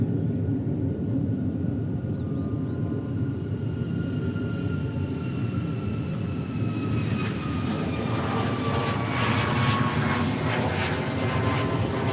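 A Southwest Airlines airliner flies past an airfield in Hawaii, its engine roar rising from a distant drone to a louder, whining pass with descending tones toward the end, no voices present.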